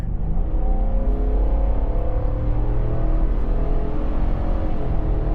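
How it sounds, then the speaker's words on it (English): A 2026 Ford F250 with the 7.3L Godzilla gas V8 accelerates, a steady, loud, deep engine drone with rising tone across the whole span, no voices. "that 430 horsepower comes to life with this big displacement gas engine"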